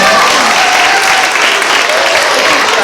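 Loud, dense applause from an audience honouring grandparents at an autism awareness event, a continuous wash of clapping that holds steady throughout.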